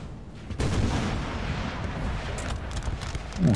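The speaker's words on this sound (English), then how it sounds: "Spanish artillery would have a nice firing line on them" Spanish artillery firing during a Napoleon: Total War field battle: a heavy, rumbling burst of cannon fire swells in and rolls on continuously, loud and dense, with a sharper low thump near the end.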